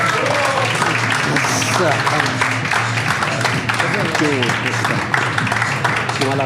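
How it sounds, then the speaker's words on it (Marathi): An audience applauds to welcome guest Kunal Vijayakar, with dense, steady clapping that carries for several seconds. Voices talk and cheer over it throughout. "जोरदार टाळी स्वागत करा"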